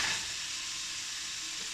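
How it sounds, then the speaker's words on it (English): Steady sizzling of ground beef frying in a hot pan, a constant hiss with no talking. "And we're now going to take our pound of beef and fry her up. Frying pan's hot."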